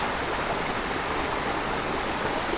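A steady rush of flowing stream water, even and unbroken throughout, heard alone with no voices.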